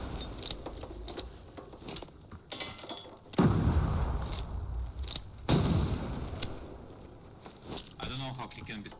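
Two heavy, booming grenade blasts in Arena Breakout Infinite land a couple of seconds apart, each with a deep rumbling tail, amid scattered gunfire and metallic clatter while a voice talks over the action.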